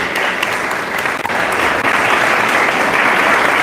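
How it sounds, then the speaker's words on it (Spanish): A church congregation bursts into steady, dense applause honoring the fathers present, a loud, unbroken wash of clapping with no voices above it. "Démosles un aplauso de felicitación a nuestros padres."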